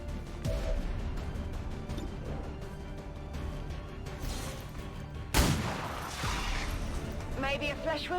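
A single sharp, loud shot bursts out midway through a turn-based XCOM 2 battle, over a busy game soundscape, with voices talking around it.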